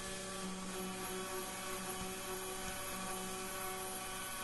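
A Taig CNC mill cutting aluminum with air mist cooling at about 25 psi produces a steady, dense whine and hiss of spindle and air, continuous and unbroken throughout.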